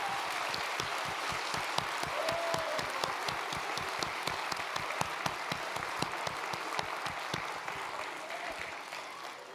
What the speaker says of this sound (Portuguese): vamos dar uma forte salva de palmas para esse casal